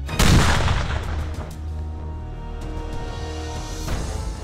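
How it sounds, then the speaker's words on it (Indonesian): Heavy blast during Indonesian Kopaska naval commando training, a loud opening boom followed by rumbling, crackling debris and a second smaller burst later, with no talk over it. "3, 2, 1, ledakan!"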